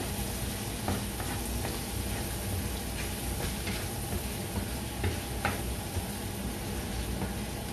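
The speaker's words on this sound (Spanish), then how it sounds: "ahora vamos a echar una cucharada de pimiento. Vamos a dorar un poco." Paprika pepper sizzling with golden-browned onion in a pan for lamb cochifrito, a steady dense frying hiss with occasional faint stirring clicks, close and continuous, no talking.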